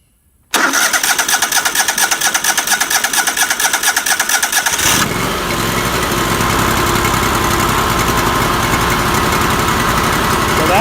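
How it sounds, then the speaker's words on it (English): A Kohler Command Pro 20 small engine running on choke sputters to life abruptly and runs loud and fast with a rough, uneven idle, then settles into a steadier, lower running drone. "you can hear the engine smoothing out"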